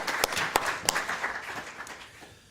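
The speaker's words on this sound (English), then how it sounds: "please, a warm applause to thank Georgette for her input" Applause for a speaker at a conference on EU Structural Funds: a short burst of scattered claps with a few sharp louder hits early on, thinning and fading out within a couple of seconds.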